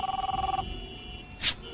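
An old-fashioned telephone bell trills in a rapid rattling ring in a cat food commercial, then stops, followed by a brief sharp noise, close and fairly loud.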